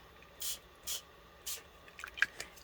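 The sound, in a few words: spray bottle spraying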